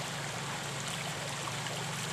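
Water pours into a milkfish pond as a steady, continuous rushing flow with an even hiss and a low hum underneath, unchanging and fairly loud, without any voices.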